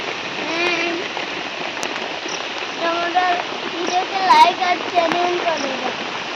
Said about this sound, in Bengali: ঝড় বৃষ্টিতে প্রচুর গাছপালা ভেঙেছে আর প্রচুর বাতাস দিচ্ছে